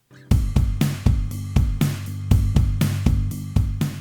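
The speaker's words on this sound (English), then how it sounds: "So the bass plus the drums is going to sound like this." Drums and bass play a driving groove together, steady kick and snare hits over a low pulsing bass line, no voices.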